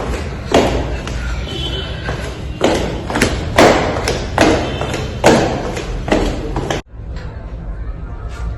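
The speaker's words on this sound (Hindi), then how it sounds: "मैं बिल्कुल दरवाजा बंद करके निकल रही हूँ" A house door being shut and locked: a run of loud, close thuds and knocks at uneven intervals, ending in a final heavy slam followed by quieter room sound.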